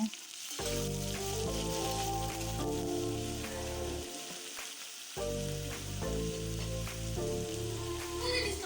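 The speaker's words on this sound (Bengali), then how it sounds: "এবার এক বাটি পেঁয়াজ দিয়ে খুব ভালোভাবে ভেজে নেব" Onions frying in a pan with cashew nuts give a steady, close hiss and sizzle throughout, running beneath a layer of background music.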